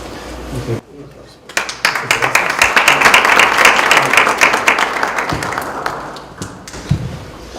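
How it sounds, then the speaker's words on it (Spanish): An audience at a climate change talk on World Environment Day breaks into applause after a short pause, a burst of clapping that swells, holds, then tapers with a few thuds. "Tengan un aplauso"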